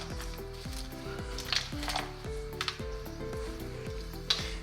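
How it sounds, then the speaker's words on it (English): A spoon stirs macaroni and cheese in a pot, giving quiet scrapes and squishy sounds under a faint steady sizzle, while a soft tonal hum with repeating falling notes plays in the background. "we're gonna give that a stir."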